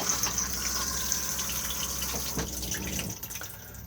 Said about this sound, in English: just slide the grey lever across just here and then push the flush on the top